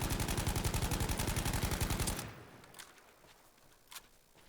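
Rapid automatic gunfire from a weapon in the video game Battlefield 5, a fast steady burst for about two seconds that stops abruptly, followed by a couple of faint isolated shots.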